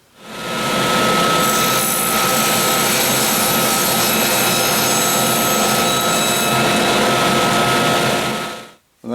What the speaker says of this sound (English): We've got a 3/4 inch piece of oak here at the table saw, and the first thing we're going to do is we're going to trim it up